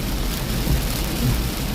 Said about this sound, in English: I didn't realize it was going to rain so miserably